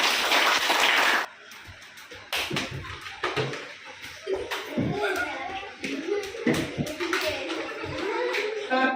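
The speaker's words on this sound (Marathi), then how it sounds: "शाबाश, टाळ्या वाजव तिच्याकडे" A burst of loud applause opens, then children clap in scattered taps for the winner of a bottle game while an adult and kids talk over it.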